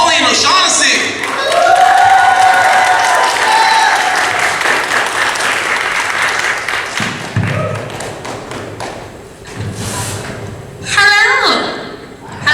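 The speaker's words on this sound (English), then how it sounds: "give a big, round, warm applause for Colleen O'Shaughnessy" Audience at a Retropalooza convention panel breaking into loud sustained clapping and cheering, close and dense, thinning out as talk and scattered shouts take over, then a brief renewed burst near the end.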